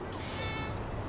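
A cat's meow in the GTA5 animals mod video game, one short soft cry heard over a steady background of game ambience.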